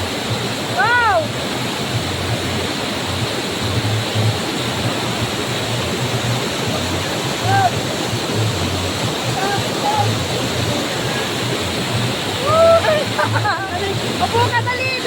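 Water pours at Sprite Falls in a steady, loud rushing roar, with people's voices calling out and talking over it at moments.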